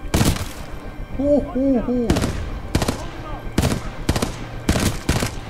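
Repeated sharp gunshots from Titanfall 2 gameplay ring out in loud bursts, about eight shots spread across the stretch, while someone speaks briefly between them.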